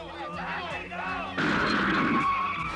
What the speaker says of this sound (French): Regardez, regardez, un camion en folie!